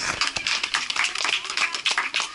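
A small audience claps for a volunteer at the Mystery Spot, a quick ragged patter of several pairs of hands, fairly close, with no talking.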